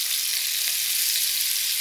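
Curry sizzles in hot oil previously used for frying brinjal and vegetarian fish, a steady, loud hiss of frying filling the short moment with no voices.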